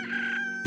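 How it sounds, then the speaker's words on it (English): Rooster crowing at morning in the Slime Rancher video game, a clear, sustained cock-a-doodle-doo call that is loud and alone, ending with a brief noisy burst. "Rooster crow, wake up."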